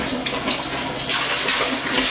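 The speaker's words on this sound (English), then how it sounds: "This is water straight out of the well." Well water gushes steadily from a compressed-air pump used for irrigation in Ecuador, a continuous broadband rushing and splashing at close range with no talk.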